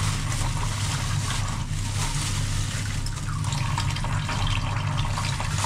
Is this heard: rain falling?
no